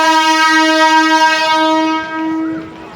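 A local train's horn blares loudly in a long sustained tone, then fades out with a short second blast.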